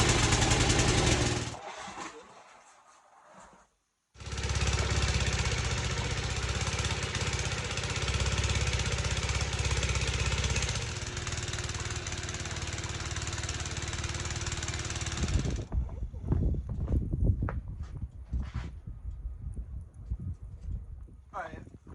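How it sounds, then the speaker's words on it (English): A snow blower engine struggling in roughly two feet of deep snow runs loud and steady, cuts out briefly, restarts, then gives way to rougher clattering and crunching toward the end, with speech present. "My snow blower's giving me a little trouble"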